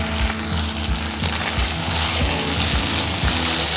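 Potatoes fry in a pan with a steady, close sizzle, while a utensil scrapes and stirs through them in repeated low knocks.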